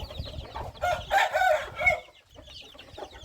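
Chickens cluck and a rooster crows on a poultry farm in cold weather, a loud crowing burst in the middle surrounded by scattered nearby clucks and hen calls.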